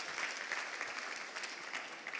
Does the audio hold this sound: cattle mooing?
no